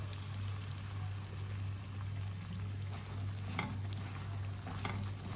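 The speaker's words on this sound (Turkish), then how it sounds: "Şimdi 2 su bardağı dolusu irmiğimizi tavamıza döküyoruz yavaşça." Semolina poured slowly into a pan of melted butter with walnuts, giving a soft continuous hiss and patter with faint stirring scrapes, close by over a steady low hum.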